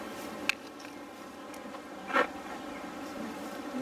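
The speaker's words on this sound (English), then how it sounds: "Put the bees on it." Honey bees hum in a soft, continuous buzz close by, with a couple of brief clicks and a louder pass midway.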